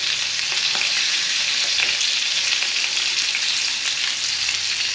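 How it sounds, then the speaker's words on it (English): Steaks sizzling in a hot pan just after being flipped, a loud, steady, close frying hiss that continues for the whole stretch, with faint scrapes and no talk. "All right, so I flipped my steaks over,"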